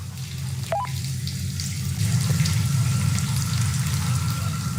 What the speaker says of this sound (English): I just hear water